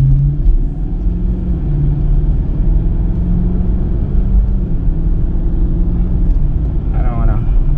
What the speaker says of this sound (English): I don't want to rev it too much because you just start up the car.